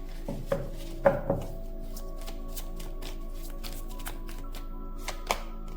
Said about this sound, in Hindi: ये कार्ड नहीं आना चाहता और शफल करती हूँ।